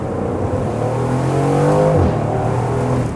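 A 2022 Aston Martin Vantage Roadster's engine revs hard and steadily climbs in pitch, loud and close, with a brief dip in the middle before roaring again.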